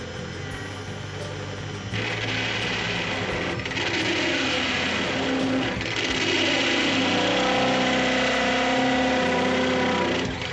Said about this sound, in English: I need to drill the hole until I reach that circle, and that'll be my 33 millimeter hole.